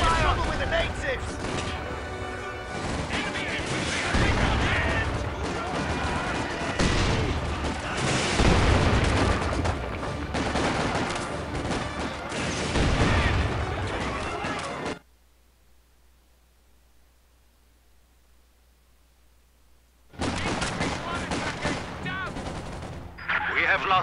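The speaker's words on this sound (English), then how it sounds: "They're firing on us!" Dense gunfire and artillery from Company of Heroes 2 roar loudly and continuously in a battle, with machine-gun bursts and booms, then cut to near silence for about five seconds before the shooting resumes, with game voice lines mixed in.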